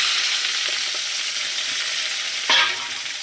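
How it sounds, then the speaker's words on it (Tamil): Garlic, dried red chillies, onion and tomato sauté in a hot pan for tomato chutney, with a steady close hiss throughout and a brief louder spatter near the end. "பூண்டு வரமிளகாயும் சேர்த்துட்டு கொஞ்சம் செவக்கிற அளவுக்கு நம்ம வதக்கிடலாம்"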